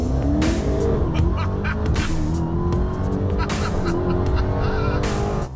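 A Dodge Demon launches on a drag strip using its transbrake, a loud, close engine roar with rising pitch sweeps mixed with bursts of squealing tires, continuous throughout.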